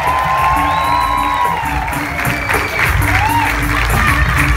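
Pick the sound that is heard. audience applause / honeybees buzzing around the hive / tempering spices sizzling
audience applause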